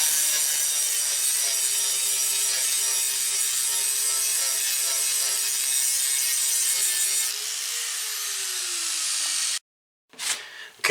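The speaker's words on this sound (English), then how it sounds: "I'm gonna have to do some grinding here to see where I'm at" An abrasive grinder works steadily against the metal of a Chevy S10 truck door under repair, giving a loud, sustained, harsh whine up close. Its pitch shifts, then the grinder cuts off and briefly clatters.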